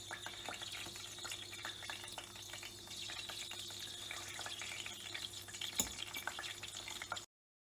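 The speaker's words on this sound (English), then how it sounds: "Once the oil is heated, we are going to add our chicken pieces into it." Chicken pieces for Hyderabadi chicken 65 deep frying in hot oil, a soft, continuous crackling sizzle with scattered pops throughout, fairly quiet and without any voices.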